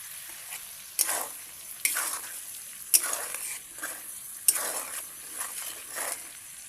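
Hog plum (amra) pickle being stirred and cooked in a pan, a steady close sizzle broken by repeated scraping strokes of a spoon about once a second.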